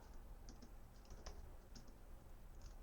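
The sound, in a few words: typing file name on a computer keyboard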